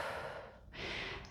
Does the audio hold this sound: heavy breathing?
yes